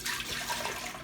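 Two cups of water pour into an Instant Pot as a short, faint, continuous splashing trickle, heard close up without talk.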